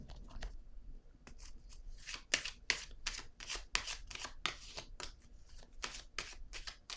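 Playing cards are shuffled, handled and laid down on a table, giving a quiet, close series of crisp flicks and soft slaps in an uneven rhythm, with no talking.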